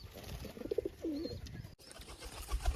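A pigeon kept by a pigeon fancier gives a short, soft coo over faint background noise, then the clip continues with quiet rustling and low ambient sound.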